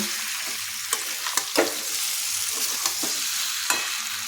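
Fried paneer, tomato and green chili sizzle together in a pan, a steady hiss broken by scattered light scraping taps of a spatula while stir-frying, close and alone without speech.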